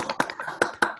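A few scattered claps from online meeting attendees come through as sharp, uneven hand claps. Several distinct loud claps are spread across a second, with faint tapping between them.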